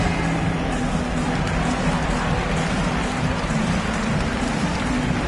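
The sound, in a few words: arena crowd cheering in a basketball video game (NBA 2K)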